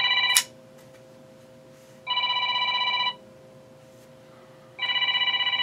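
A telephone rings in two long electronic trilling bursts with a pause between, loud and clear over a quiet room hum.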